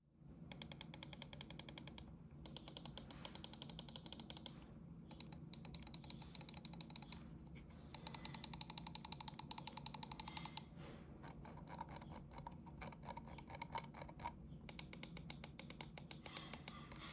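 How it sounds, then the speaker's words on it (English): VAXEE XE-S 4K mouse buttons clicked in rapid bursts, crisp close-up ticking in quick rhythmic runs separated by short pauses. "Let's do a quick little click sound test for you guys here."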